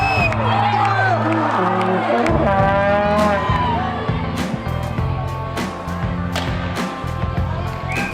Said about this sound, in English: And just like that, it awakens the hometown crowd.